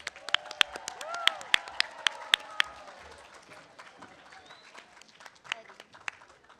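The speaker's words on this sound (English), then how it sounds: "Let's give a huge round of applause to our MCs" A youth conference crowd gives a round of applause for the MCs, sharp individual claps near the mic riding over a softer spread of clapping that thins out, with a voice talking faintly beneath.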